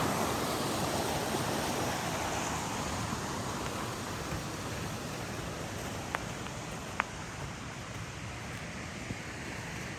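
Creek water flows steadily at a campground, a broad continuous rushing wash close by, with a couple of faint clicks and no voices.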